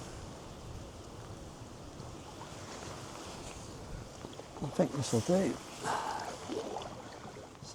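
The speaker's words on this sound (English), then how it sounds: "It's a bit windy, but hopefully that's going to die down a bit." Wind gusting across a Norfolk Broads riverbank, a steady rushing buffet close to the microphone, with a person speaking briefly over it.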